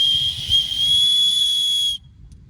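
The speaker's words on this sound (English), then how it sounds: "I do have an emergency whistle right here" A handheld emergency whistle gives one loud, sustained shrill blast lasting about two seconds, then cuts off abruptly.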